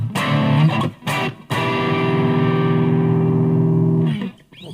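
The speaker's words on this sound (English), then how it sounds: "this time a little more edge and a bit more distortion, overdrive to it" Overdriven electric guitar with a bluesy, edgy distortion through a Boss BR-80, a few short chord stabs followed by a long sustained ringing chord that fades near the end, no voices.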